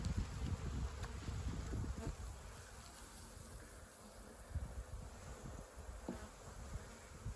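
Honeybees buzz around an open hive during a spring inspection, a continuous low droning hum with occasional louder passes of individual bees close by, fairly quiet overall and with no talking.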